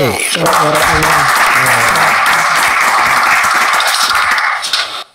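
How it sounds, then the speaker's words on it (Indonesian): Loud, dense crowd applause greets an ustaz at the opening of a commentary show, a steady wash of clapping that fades out at the end, with a voice heard briefly at the start. "Tepuk tangan buat Ustaz K"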